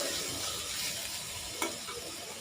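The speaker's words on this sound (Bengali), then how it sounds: "এখানে আলু ভাজি করে নিচ্ছি" Potatoes frying in a pan on a home stove, a steady close hiss and crackle of sizzling oil with a brief stirring scrape partway through.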